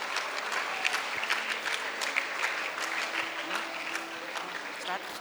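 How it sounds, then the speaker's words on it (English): Audience applause for honored council members at a school investiture ceremony, a dense sustained clapping that holds steady throughout, moderately distant in a large hall. "Let us give a big round of applause to all the council members honored here today."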